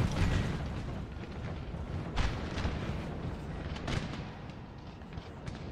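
Continuous rumbling roar of artillery firing across a battlefield in Napoleon Total War, dense overlapping booms with a few sharper blasts standing out, loud and sustained throughout.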